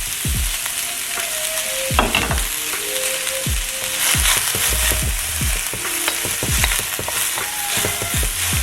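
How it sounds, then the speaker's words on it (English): Onions fry in smoking-hot oil over high heat, giving a loud continuous sizzle broken by repeated scraping and clacking stirring strokes at an irregular pace. "I'm gonna turn this all the way up to high and get going on doing first the onions"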